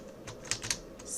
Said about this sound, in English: I'm going to type in between